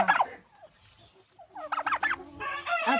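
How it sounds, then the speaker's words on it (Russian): A turkey gobbles loudly and close by in a backyard poultry flock, with a quick rattling burst at the start and a longer run of gobbles near the end. "Это индюк."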